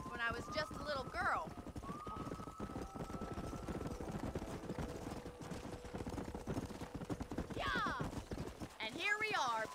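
Horse hooves clip-clop in Red Dead Redemption, a steady rhythm of thuds running through the whole stretch beneath in-game voices and music.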